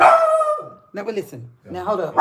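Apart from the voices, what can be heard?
dog barking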